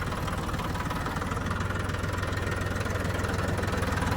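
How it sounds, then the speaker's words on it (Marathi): A tractor engine runs steadily nearby, a constant low rumbling chug with no pauses. "ट्रॅक्टर मध्ये आवाज येईल."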